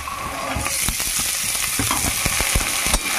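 Chickpeas sizzle and fry in hot oil with chopped chillies and onions, a steady close crackle broken by sharp scraping taps of a spatula stirring the pan.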